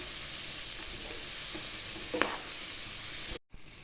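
Mixed vegetable pickle with ground pickle spices is stirred in a pan over a continuous steady sizzle, with a few soft scrapes and one brief clink near the middle, and no talking.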